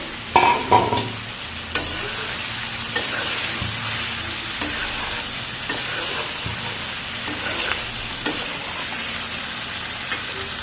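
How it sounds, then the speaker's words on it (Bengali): Fried eggs are stirred into a masala in a pan, a continuous sizzle broken by repeated scraping and clacking of a spatula against the pan, close and alone. "এবার আমি এই যে ভাজা ডিমগুলো এর ভিতরে দিয়ে দেবো দিয়ে ডিমের সাথে একটু কষিয়ে নেবো"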